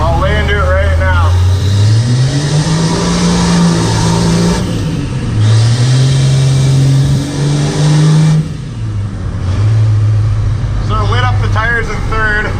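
A first-generation Cummins diesel truck accelerates hard in third gear, its engine droning loud and rising in pitch through long pulls with gear changes, while voices talk over the roar.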